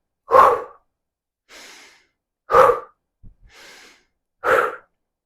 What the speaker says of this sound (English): inhale is through the nose and with mouth shut